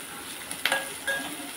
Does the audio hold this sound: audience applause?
no